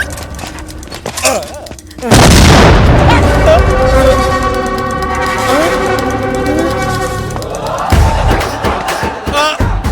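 Bomb explosions in a Telugu film comedy scene burst in as a sudden loud boom, followed by a sustained blast and rumble mixed with music. Voices shout before it and again afterward.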